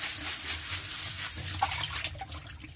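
Plastic bags being rinsed under running water at a sink during cooking prep, a quiet continuous splashing and trickle with small sloshes and drips, close by, no voices.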